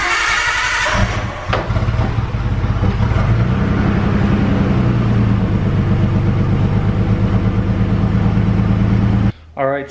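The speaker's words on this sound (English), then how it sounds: "car sounds a little weird. The motor is shaky" Nissan R32 Skyline with newly fitted Splitfire coil packs, its engine idling roughly with an uneven, shaky pulsing rumble close by, steady and loud before cutting off near the end, with a person speaking over it.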